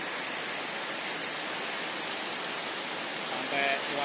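Heavy rain pounding an aluminium roof on a workplace building during a late-afternoon storm, a dense, steady hiss that stays loud and unbroken throughout.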